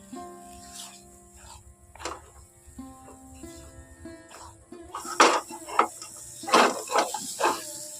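Thick dough stirred continuously in a pan until it pulls away from the sides, faint scraping at first, then louder clustered scraping bursts near the end, over background music.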